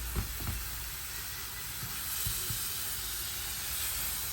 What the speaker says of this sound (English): Frying away nicely.